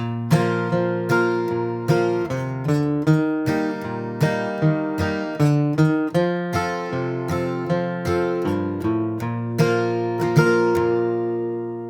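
A steady, bright acoustic guitar strums chords in a bouncy bluegrass rhythm, with walking bass notes connecting the changes, played alone and up close.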